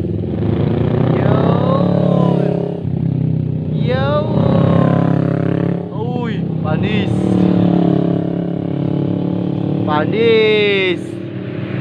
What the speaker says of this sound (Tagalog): napakaangas na mga motor mga man, no?